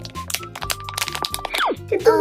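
Skin peeled off a frozen squishy toy gives short crackling, crunching bursts at close range, mixed with people talking.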